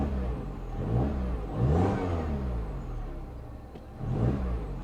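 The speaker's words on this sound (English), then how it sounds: "we'll give it a quick rev" A 1966 Chevy Impala SS 396 V8 with a vacuum leak revs in short bursts, two swells rising from a rough mid-pitched idle, fairly close and with no talk over it.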